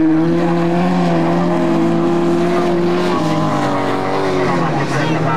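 A rallycross race car drives hard around the Turkkimäki track, its engine a loud, steady, droning roar that shifts pitch slightly as it works through the lap, with race commentary spoken over it throughout.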